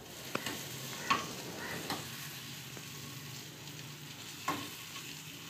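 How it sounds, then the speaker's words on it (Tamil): Light frying of boiled eggs coated in masala in a little oil, a soft steady sizzle with occasional stirring clicks and scrapes, quiet and close, with no voices. "லைட்டாக ஃப்ரை பண்ணி எடுத்துக்கிறோம்."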